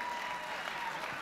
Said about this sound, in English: here's the obligatory clap when you mention how many years you and your wife have been married